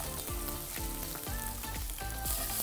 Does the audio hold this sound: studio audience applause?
no